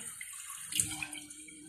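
Water pours into a sweet chili sauce bottle to rinse it, a brief, soft splashing stream close by.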